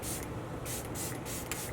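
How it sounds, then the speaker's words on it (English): One Size Powder Melt Glass setting spray hisses from its bottle in about four quick, close spritzes, each a short burst of airy mist over a low background hum. "I'm going to use One Size Powder Melt Glass Setting Spray"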